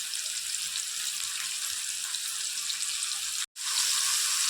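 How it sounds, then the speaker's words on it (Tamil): Apple French fries frying in hot oil give a loud, steady, close sizzle with a dense, bright hiss that cuts out briefly for a split second and then resumes. "நல்லா ஃப்ரை ஆகட்டும், எடுத்துருங்க."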